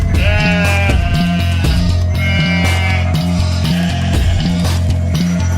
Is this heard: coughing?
no